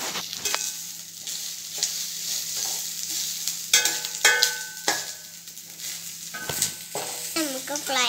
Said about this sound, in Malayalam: തേങ്ങ ഇട്ട് കൊടുത്തിട്ട് നമുക്കൊന്ന് ഇളക്കാം.